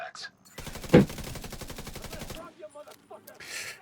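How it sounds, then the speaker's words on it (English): Fireworks going off outside at night in late December, a rapid string of crackling pops like a fusillade followed by scattered bangs, heard from indoors at moderate distance. "And yeah, the fireworks definitely already going."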